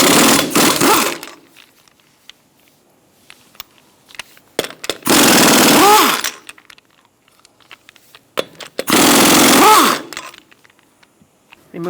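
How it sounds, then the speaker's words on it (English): Lug nuts come off a 2002-2006 Toyota Camry front wheel with a power tool on a 21mm socket, sounding as three loud buzzing bursts of about a second each, separated by quiet gaps with small clicks. "Using a 21mm socket, we're going to remove our lug nuts."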